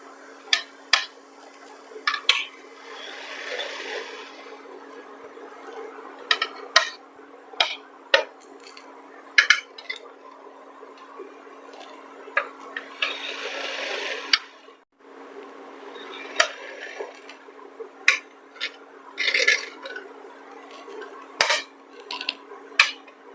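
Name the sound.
steamed rice-flour fara being lifted from the steamer onto a plate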